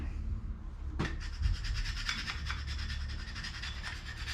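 A Massey-Harris tractor carburetor is scrubbed clean by hand, a close, steady brushing rasp of quick repeated strokes that starts after a soft knock and continues without speech.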